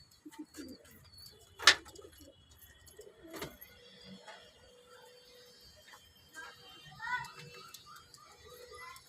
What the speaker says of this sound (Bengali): এই একটা জোড়া পায়রা আমার ঘরে, বাংলাদেশি সিলভার চটিয়াল পায়রা যেটাকে বলে